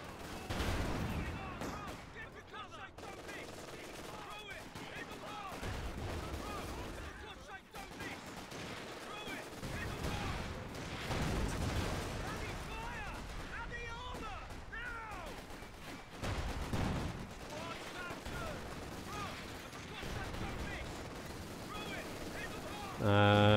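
Artillery and gunfire rumble through a Company of Heroes 2 skirmish, repeated heavy booms and crackling shots layered over a dense battle din, with someone talking intermittently over it.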